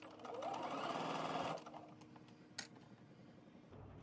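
A sewing machine stitches a dress seam in a fast, steady mechanical whir for about a second and a half, then stops. Fabric shuffles quietly afterward, with one brief click.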